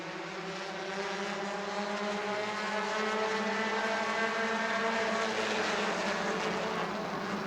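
Race cars circle the track at a family fun night: several engines roar together in a sustained, rising and falling drone, loud and close, with no commentary over them.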